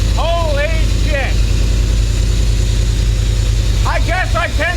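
A rebuilt car engine runs at a steady idle, loud and close, while voices talk over it.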